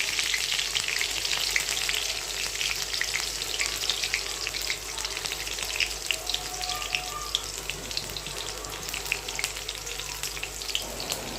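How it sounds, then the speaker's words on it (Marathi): Green chillies frying in hot oil with mustard seeds give a dense, crackling sizzle with scattered pops, steady and close throughout with no voices. "आता मिरच्या टाकलेल्या आहेत फ्राय करून घेऊयात"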